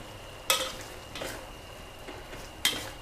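Fish balls are stirred into a dry green curry with eggplant in a pan. A spatula clinks sharply against the pan twice, with soft scraping and a faint sizzle between the clinks.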